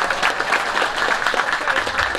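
A studio audience applauds steadily and loudly throughout, a dense unbroken wash of clapping at a quiz show.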